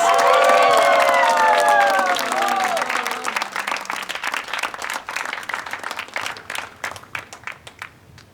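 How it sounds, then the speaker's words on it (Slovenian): Audience applause with cheering and shouting at a comedy show, loud and dense at first with whoops over the clapping, then thinning into scattered claps that fade out. "Dajmo aplavz!"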